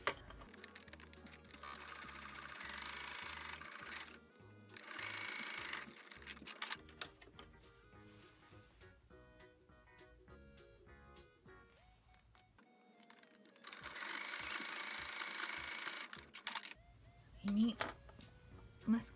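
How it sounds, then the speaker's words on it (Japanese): Sewing machine stitching a cloth face mask, a quiet rapid mechanical whirring in several short runs with pauses, while someone talks throughout. "マスクの上側アイロンで折ったところのこの端っこに2ミリぐらいのステッチをかけます。"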